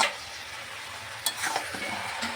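Cabbage stir-fried in a pan makes a constant close sizzle, with a few stirring scrapes and knocks of the spatula.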